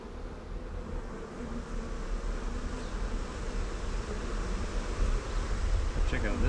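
A swarm of bees hums continuously around a crack where they are gathered. The buzzing is steady and moderately close, and it swells slightly toward the end with no speech over it.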